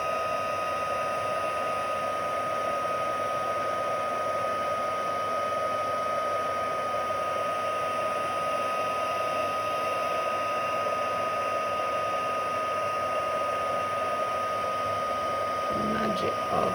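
Steady, unbroken whoosh of a heat tool blowing hot air to melt embossing powder, close and constant throughout with no letup.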